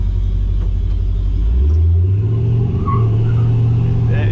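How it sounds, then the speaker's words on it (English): A Chevrolet Camaro driven on light throttle over a bump, a loud low engine rumble that shifts pitch partway through, with faint squealing, close by. "we were about as light on the gas as we could be, and it still squeals when it goes over that bump"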